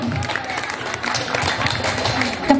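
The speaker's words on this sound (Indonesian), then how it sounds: "Tepuk tangan untuk Ibu Umi Kalsum." Audience applause at a school student council debate and campaign event, a short spell of steady clapping from a crowd with some voices mixed in.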